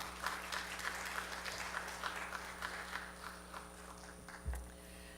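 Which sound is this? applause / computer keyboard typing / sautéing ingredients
applause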